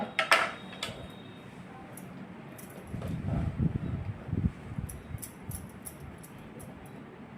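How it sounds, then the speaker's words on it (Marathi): Fresh fenugreek (methi) leaves chopped finely with a knife, giving faint, irregular tapping and soft thuds that cluster into a denser run of quick cuts midway. "आता आपली मेथी अशी बारीक चिरून घेणे"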